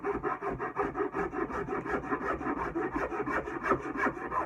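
A rasp files a wooden handle into a French curve shape, with steady rhythmic back-and-forth strokes, close and fairly loud, about four strokes per second.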